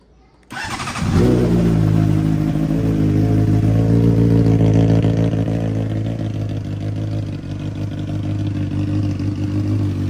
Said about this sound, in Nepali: अब चाहिँ बाइक स्टार्ट गर्छु